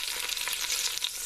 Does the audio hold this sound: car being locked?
no